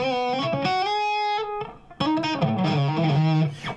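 Electric guitar played through an amp with the reverb switched off, giving dry, distorted sustained notes and a chord, then a brief dropout before a busier run of notes and chords, loud and close.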